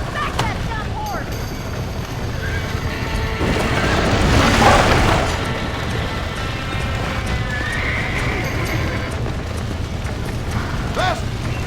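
A horse in the Red Dead Redemption video game neighs and gallops with clip-clopping hooves, a rumbling burst swelling in the middle, while someone shouts over the continuous in-game action.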